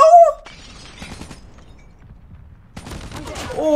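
Gunfire in a Call of Duty Mobile ranked match: a loud burst of shots opens, then quieter scattered game noise follows, and a second dense volley arrives near the end.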